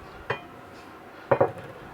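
Sautéed kale stirred in a pot on the stove, heard as a single clink early on and then two quick metallic knocks of a utensil against the pot, close and otherwise quiet.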